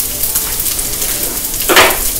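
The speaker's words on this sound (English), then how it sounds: "I'm hearing that sizzle again." Chicken fried rice sizzles and fries in a hot pan, a steady close crackling hiss with a brief louder burst as it is stirred.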